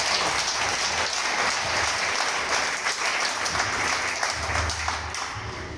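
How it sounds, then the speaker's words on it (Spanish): Applause from a Shabbat service congregation, a dense patter of many hands at moderate level that thins slightly toward the end, with no talking over it. "Dale un aplauso a Machia."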